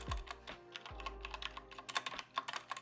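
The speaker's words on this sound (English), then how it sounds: "typing is so hard when you're doing it correctly with all 5 of your fingers" Fingers type on a computer keyboard during a Neovim practice session, producing quick, irregular clicks that bunch into faster bursts toward the end, with a few low thumps at the start and no talking.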